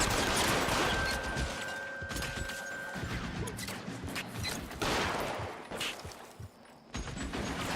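Gunfire in the video game LA Noire, a loud barrage of shots and sharp cracks layered with game noise and crashing impacts, dense and continuous with short lulls, no speech.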